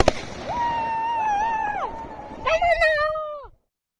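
A Cruel Cleo 200g firework cake from Elite Fireworks fires low breaks: a sharp crack, then long whistling tones that bend and fall, and a second burst with more whistles before sudden silence.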